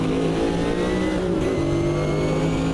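Corvette GTP prototype race car in Automobilista 2, its engine droning steadily and loud under throttle, with a sustained harmonic tone that dips and rises slightly through a corner exit.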